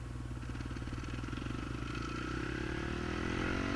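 Honda CRF450R motorcycle engine on a cold motor under aggressive throttle, a close, continuous buzzing drone that climbs steadily in pitch and grows louder over a few seconds.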